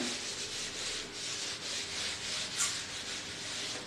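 Writing being erased from a classroom board during a chemistry lesson, a continuous soft rubbing with gentle rhythmic swells from the back-and-forth wiping, fairly quiet and with no talking.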